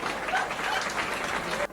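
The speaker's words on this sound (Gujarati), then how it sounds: "એકવાર જોરદાર તાળી થઈ જાય." Audience applause at a Gujarati comedy roast show, a dense, steady wash of clapping filling the room for nearly two seconds before cutting off abruptly.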